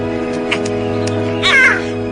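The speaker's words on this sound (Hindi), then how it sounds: "क्या बात है मैरियम, तुम डाक पक्षी को ले आई?" A messenger bird that carries mail in the Dinotopia adventure film gives one brief, rising squawk-like call over steady film music.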